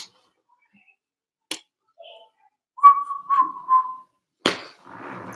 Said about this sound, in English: I mean, I can whistle.